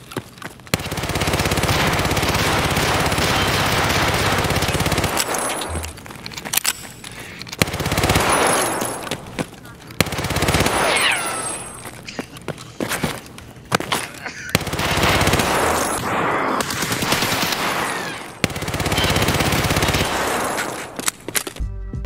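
An automatic rifle with a 71-round drum magazine fires in Escape From Tarkov, loud sustained bursts of rapid shots broken by brief gaps, repeated several times.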